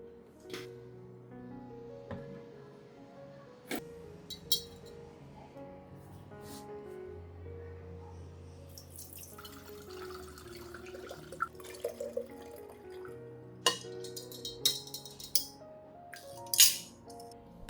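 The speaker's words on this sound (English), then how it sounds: "I strain out the solids, keeping only the clear garlic-infused water." Garlic-infused water strained to remove the garlic solids: sparse drips and light clinks of a container against a quiet background, with a brief trickle and scattered sharper taps later on.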